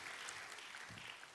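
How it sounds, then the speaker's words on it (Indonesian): Church congregation applauding, a dense, continuous wash of many hands clapping at moderate distance, fairly faint and steady throughout. "Ayo tepuk tangannya yang paling meriah buat Tuhan kita."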